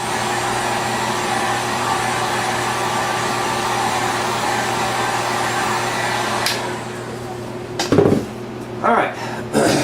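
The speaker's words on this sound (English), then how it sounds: "give this a little bit of a heat dry." A heat gun blows a steady, loud whoosh to dry a medium coat of paint on a scale model, running alone for several seconds before cutting off, followed by a few clatters and handling knocks.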